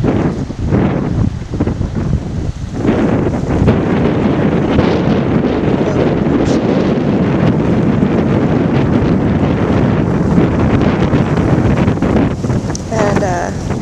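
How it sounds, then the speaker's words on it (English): Steady wind buffets the microphone atop Booboo Hill at Warderick Wells in the Exuma Land and Sea Park, a loud, continuous broadband roar with gusty swells and no voices. "Wind is not blowing nearly as hard as it was yesterday"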